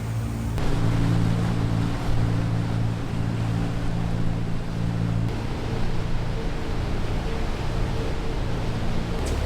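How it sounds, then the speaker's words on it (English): A passing motor yacht on open water, heard as a steady low engine drone mixed with wind and wave wash, fairly loud and continuous. "We got boats passing us. Here's one right now. It's like maybe some sort of motor yacht"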